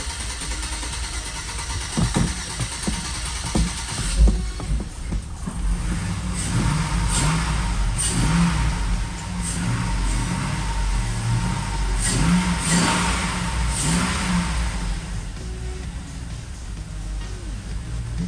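A Chevrolet Tahoe engine runs steadily with rising and falling revs, heard close, broken by brief knocks and clicks, and a voice speaks at times.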